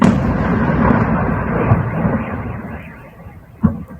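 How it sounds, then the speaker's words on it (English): A missile impact explosion rolls out as a loud, deep rumbling roar that slowly fades over several seconds, broken by one further thud near the end, with no voices. "Boom. Missile impact."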